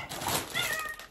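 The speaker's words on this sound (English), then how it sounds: "if you hear any noise, it's my kitty cat" A pet cat meows indoors, a couple of short, close, fairly clear calls with rising and falling pitch over about a second, with no talking.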